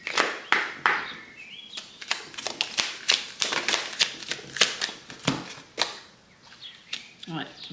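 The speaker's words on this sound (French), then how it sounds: "je vais prendre mon oracle, je vais vous tirer quelques cartes" Oracle cards are shuffled and drawn by hand, a run of crisp flicking and slapping taps in quick uneven bursts, close and clear, with a short pause near the end.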